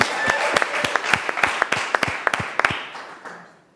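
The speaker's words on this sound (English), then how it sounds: "How about a big round of applause for the volunteers?" Scattered hand claps greet volunteers at a Make-A-Wish wish night, a few people clapping in an uneven run that thins out and fades.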